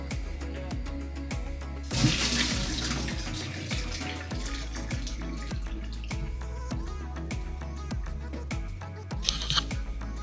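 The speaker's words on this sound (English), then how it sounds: "boil the water, and then we've got our boilies ready to go here" Homemade carp fishing boilies cook in a pot of water on a stove, a steady bubbling and rolling boil with faint watery splashes, close and continuous without speech.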